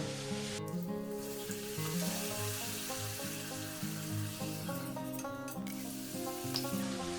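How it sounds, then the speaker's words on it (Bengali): Papad frying in hot mustard oil, a continuous bright crackling sizzle with bubbling and occasional surges as pieces go in, close and fairly loud, with faint tonal background music underneath and no talking. "এবার আমি একটা জায়গায় সর্ষের তেল গরম করে নিয়েছি নিয়ে পাঁপড়গুলো ভেজে নেব"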